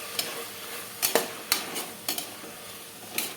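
Chopped tomatoes cooking in a pan for tomato biryani, with a soft steady sizzle and several sharp clinks of a spoon stirring against the pan, close and clear with no talking.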